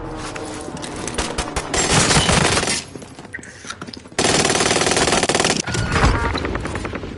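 Loud bursts of automatic gunfire in a shooter video game, long rattling volleys broken by a brief lull, then another sustained stretch of rapid shots close by.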